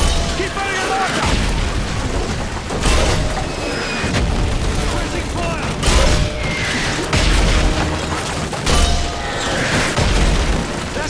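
Mortar shells from Call of Duty Modern Warfare 3 hit a village in a series of heavy booms several seconds apart, with battle clatter and radio-style voices continuing between and over the blasts.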